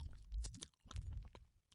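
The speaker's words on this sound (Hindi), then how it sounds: "छट छट छट, जैसे कोई कुछ चबा रहा हो।" Chewing sound effect in a Hindi horror story: close, wet, crunching bites come in two uneven bursts separated by a short pause, with no talk over them.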